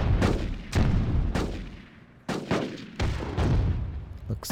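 Artillery fire in the strategy game Rise of Nations: about six loud, heavy booming blasts in irregular succession, each with a rumbling decay, with no talking.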